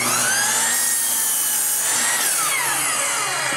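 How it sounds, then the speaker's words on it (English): A saw cuts the bad end off a 10-foot 2x4 rafter for a small roof over a door, with a steady rasping buzz that continues for the whole clip, loud and close. "Let me cut this bad end off here, Barrett."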